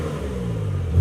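A Porsche Macan GTS fitted with an ARMYTRIX cat-back exhaust revs briefly, a close, steady engine drone that swells louder at the very end.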